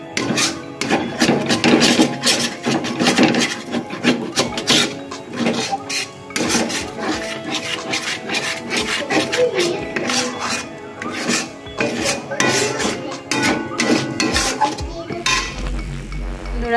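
A spiced stuffing for stuffed pointed gourd is stirred and scraped in a pan until dry, with repeated close metallic clinks and rasping strokes of the spoon in an irregular rhythm and no voices.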